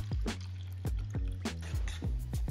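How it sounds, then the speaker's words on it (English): Paper towel and PVA glue stirred into water in a cup, giving repeated wet drips and squishy liquid splashes in a steady rhythm, close and fairly loud with no talking. "Before adding the glue this time, I put it in a cup with the water and gave it a good stir."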